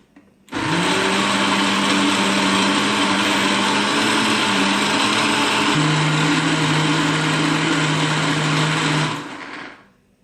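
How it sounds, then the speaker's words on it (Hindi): A blender runs loud and steady for about nine seconds blending mango chutney, its motor whine shifting pitch partway through before cutting off. "हम दोबारा से ब्लेंडर को चलाएँगे और चटनी को ब्लेंड कर लेंगे"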